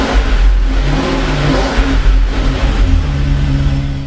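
A 2005 Jaguar XJ Super V8 revs loud and close, its engine rising and falling in several swells over a constant deep rumble.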